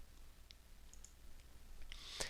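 A single sharp mouse click on the Backplot button in Mastercam software, near and crisp, following a few faint scattered clicks over a quiet room hiss.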